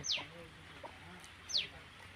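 Country hens on a chicken farm, some of them broody, give two sharp rising squawks amid softer low clucks, fairly quiet and close.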